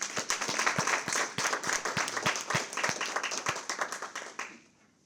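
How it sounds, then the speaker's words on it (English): Audience applause at an honoring ceremony, a few distinct near claps over a steady patter of hands, fading out in the final moment. "Please give a round of applause for the Army of SLATE."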